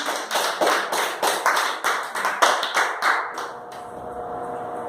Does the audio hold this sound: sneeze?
no